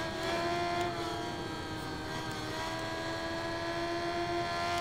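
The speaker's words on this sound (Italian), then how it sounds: "La moto di Franco." A motorcycle engine in the racing game Ride 5 holds a steady, loud, buzzing drone at near-constant revs throughout, with no talking over it.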